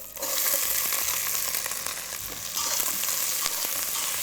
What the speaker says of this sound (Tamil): பட்டை, லவங்கம், இந்த ஏலக்காய் இதை தாளிச்சிடுவோம்